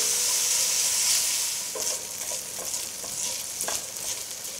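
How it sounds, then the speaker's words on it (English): Steady, fairly loud sizzling and crackling of bacon in a frying pan, with a few brief scraping stirs partway through. "Hear that sizzle."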